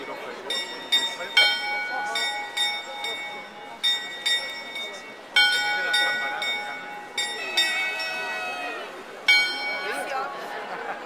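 A bell held by a skeleton figure rings repeatedly in clear, sustained metallic strikes with lingering tones, while people chatter nearby.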